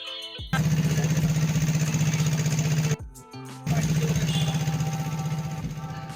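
A small boat's engine on the Buriganga river in Dhaka chugs in a loud, steady, rapid rhythm close by, cutting out briefly midway and then starting again at full volume.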